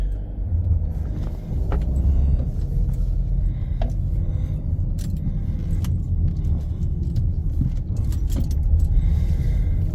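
Car driving on a road, heard from inside the cabin as a loud, continuous low rumble of engine and tyres with scattered small rattles and clicks throughout.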